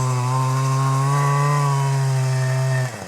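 Chainsaw with a freshly filed chain cutting firewood from a felled tree: a loud, close engine drone held at high revs for about three seconds, then dropping away.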